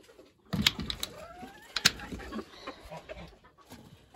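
Chickens on a North Carolina farm, including an ocean rooster and Polish hens, cluck and call in short scattered bursts during morning chores, with sharp clattering knocks mixed in.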